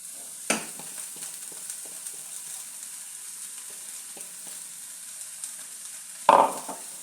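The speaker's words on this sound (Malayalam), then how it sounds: "എന്നിട്ടൊന്ന് നല്ല രീതിയിലൊന്ന് ഇളക്കണം." Thakara leaves mixed with turmeric, chili and salt fry in a pan with a soft, steady sizzle, broken by two sharper knocks of a spoon stirring, one near the start and one near the end.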